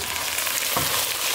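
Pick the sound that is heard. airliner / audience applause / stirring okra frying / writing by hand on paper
stirring okra frying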